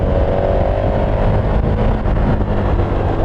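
A 2019 KTM 1290 Super Adventure touring motorcycle roars under hard riding, a dense, loud and steady engine drone with rushing wind noise throughout, no talk.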